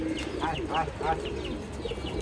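Pigeons and their chicks entering a home loft make a series of soft, rising coos and chirpy calls, repeating in quick succession under intermittent male speech nearby.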